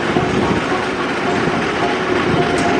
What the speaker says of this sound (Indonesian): Untuk kereta api Pangrango masuk di jalur 2, dua lokomotif